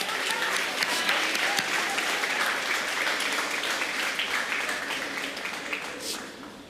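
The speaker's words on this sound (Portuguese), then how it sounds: "Você pode dar uma salva de palmas para o nosso Deus?" Church congregation applauding during a sermon, a dense, continuous wash of clapping with some voices mixed in, fading slightly toward the end.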